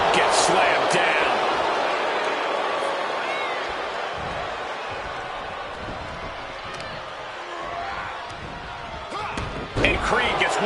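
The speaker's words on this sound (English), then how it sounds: "Gets slammed down." Wrestler slammed down onto the mat in WWE 2K26 Universe Mode, a dull thud amid loud, steady arena crowd noise, with commentary talking over it throughout.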